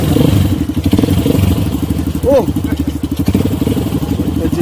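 A motorcycle engine runs loud and steady throughout, with a dense, rumbling pulse and people talking over it, plus a short exclamation.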